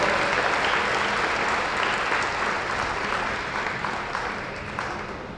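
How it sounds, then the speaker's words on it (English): A crowd applauds steadily at a girls' basketball senior recognition ceremony against Connellsville, with dense, loud clapping that fills the gym and slowly fades toward the end. "How about a nice round of applause for Cassie Marsonis?"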